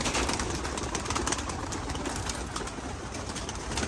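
Pigeons coo steadily at close range before being released, their soft calls layered over a dense, continuous background hiss with no talking.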